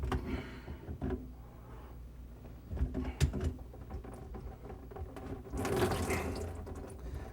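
Water splashes and trickles out of a kitchen sink drain line into a catch pan as the P-trap comes off during countertop replacement, with faint clicks and handling noise nearby and a fuller gush near the end.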